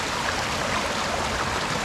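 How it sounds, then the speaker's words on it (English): Water rushes steadily through an old stone water gate at a former gunpowder works in a Cornish nature reserve, a dense, continuous wash of flow that stays even and close throughout. "This here would have been a water gate to control water flow"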